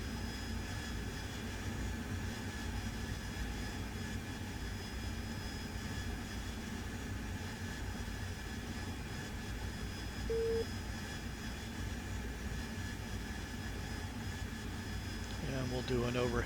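Jet aircraft engine in DCS World flight simulator, a Harrier-style jump jet approaching a FARP for a hover landing, with a steady broad roar and whine throughout while someone talks over it.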